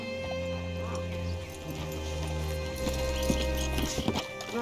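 Horse hooves clop in the Red Dead Redemption II video game, slow irregular steps close by that grow louder near the end, accompanied by low game ambience and tones.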